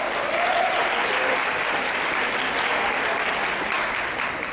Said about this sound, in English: So can I hear a round of applause?